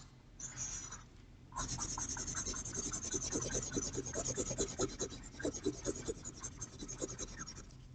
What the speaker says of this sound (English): So say I'm drawing a, we'll use marker, pink face.